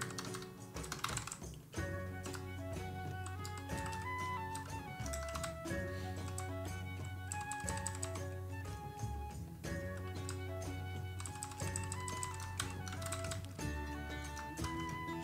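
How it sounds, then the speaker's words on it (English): Typing on a programmable computer keyboard, quick irregular key clicks under steady background music with a repeating melody, fairly quiet and continuous. "Peter Panis, I use Hyper mod key for my fancy programmable keyboard"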